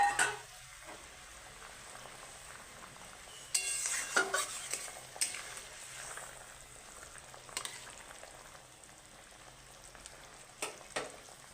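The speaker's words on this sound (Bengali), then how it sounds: "আমার ঝোলটা ফুটে গিয়েছে। এবারে মাছগুলো দিয়ে দেবো।" Pieces of boal fish go into a simmering curry, giving a few soft splashes and clatters over a steady bubbling boil and stirring, moderately close with no talk.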